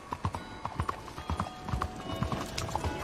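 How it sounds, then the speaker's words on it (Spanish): Horse hooves in Red Dead Redemption 2 clip-clop at a steady walking rhythm, close and fairly loud, about a dozen footfalls with faint background ambience. "mi caballo lo dejo aquí en las flores"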